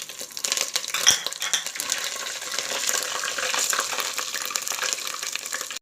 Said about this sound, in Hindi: अदरक को 1 से 2 मिनट तक भूनेंगे।